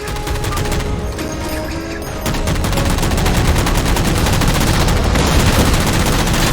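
Rapid automatic gunfire in the video game Halo 4 as jammers are shot down, a dense continuous burst of loud shots that builds in intensity, with no talk over it.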